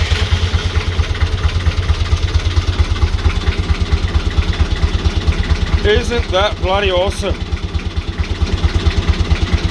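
A BMC 1.8 diesel engine idles with a steady, loud chugging throb while someone speaks briefly over it.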